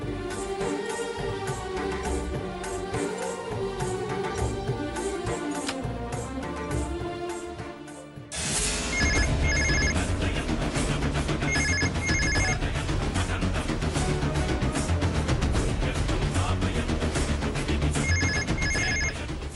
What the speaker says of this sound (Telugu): ఫోన్ లిఫ్ట్ చేయడం లేదు